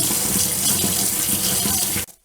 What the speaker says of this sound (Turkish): İki dolum su arıtma işleminden sonra süzgecimizi şu şekilde sudan bir geçirelim.